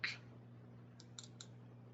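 A computer mouse double click comes through as a quiet pair of quick clicks, followed by another soft click over faint background hum, with no talk.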